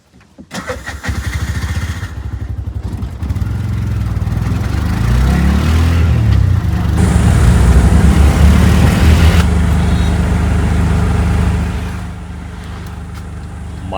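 An auto rickshaw's small engine starts with a sputter, then drones steadily and loudly close by for most of the ride, rising and holding before settling to a lower idle near the end.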